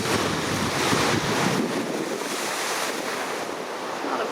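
Pacific Ocean surf near Piedra Larga, just south of Manta on Ecuador's coast, produces a constant broadband roar of breaking waves, with heavy wind buffeting the microphone and no voices.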